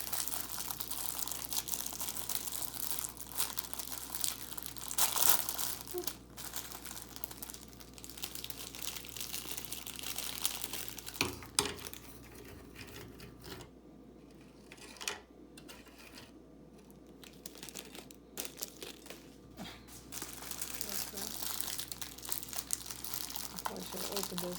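Plastic packaging around Club or Ritz crackers crinkles and rustles continuously in a kitchen while a cheese ball platter is prepared, with brief quieter gaps midway and a steady low hum underneath.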